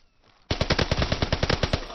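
Rapid automatic gunfire in Call of Duty: WW2 rattles in a loud, close burst of about a dozen evenly spaced shots, following a quiet moment.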